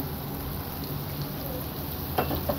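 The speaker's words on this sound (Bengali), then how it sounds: "এই তো আমি টমেটো আর আলুগুলোকে নেড়ে ছেড়ে দিলাম।" Potatoes and tomatoes sizzle in spices in a pot, a steady soft frying hiss with a couple of light scraping stirs near the end.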